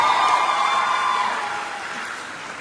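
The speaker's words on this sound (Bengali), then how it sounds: "একটা জোরে হাততালি সবার জন্য" A crowd at a live concert in New York roars with cheering and clapping in a dense, steady wash that slowly fades over a few seconds.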